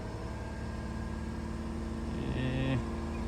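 Audi Q7 3.0 TDI diesel engine from 2017, after a camshaft sprocket repair, idling steadily with a harmonic drone, then briefly revved up before settling back.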